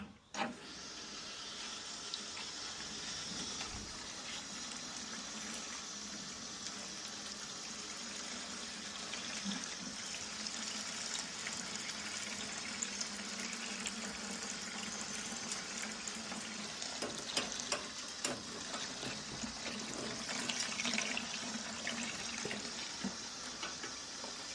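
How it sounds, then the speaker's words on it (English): Water draining from a water heater during a chemical cleaning, a steady rushing flow that stays continuous and fairly close throughout. "It's gonna drain all the water that's in there."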